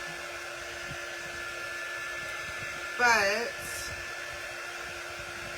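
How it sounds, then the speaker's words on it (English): A hair dryer blows steadily on wet screen-printed ink, a constant whirring hum close by, with a person briefly speaking over it partway through. "this dryer is not going to dry it all the way"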